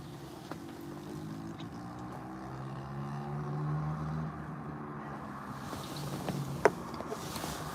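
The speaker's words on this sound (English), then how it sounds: "Wait, is the mini bike coming back?" A distant mini bike engine drones faintly and steadily in the background, a low hum with no nearby voices.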